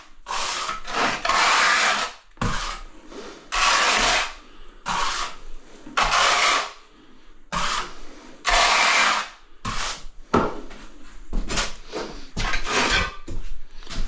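A tile is trimmed along its bottom edge with repeated rasping strokes, loud bursts separated by short pauses, close by and with no talk.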